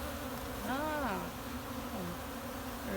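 Honeybees buzzing steadily at a backyard hive, a dense continuous drone with a few individual bees swelling louder as they pass close by, with no talking.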